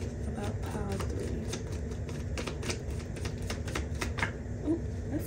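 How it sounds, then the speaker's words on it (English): A deck of tarot cards is shuffled in a quick run of crisp, clicking riffles that patter steadily and close by for several seconds over a low background hum. "that was a good shuffle"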